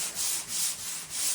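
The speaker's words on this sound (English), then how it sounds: "This is an old sponge. I've used it many times." Sanding sponge worked back and forth along a board edge, a steady rhythmic rasping in about four even strokes, close and moderately quiet with no talking.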